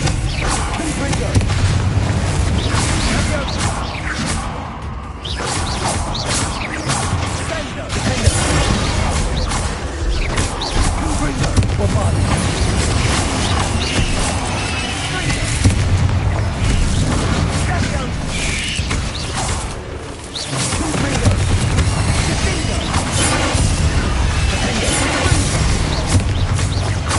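Confringo spell explosions erupt over and over in the Hogwarts Legacy video game, heavy crashing booms and rumbling debris filling the whole stretch while a voice talks through the action.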